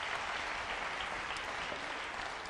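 An Italian television studio audience applauds in a steady, dense clatter of clapping that runs throughout, moderately loud and unbroken.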